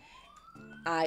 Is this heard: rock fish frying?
no